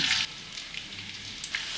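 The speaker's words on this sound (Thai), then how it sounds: "น้ำมันเริ่มร้อน ใส่หอม" Shallots frying in hot oil, a soft steady sizzle with scattered brighter crackling bursts at the start and near the end.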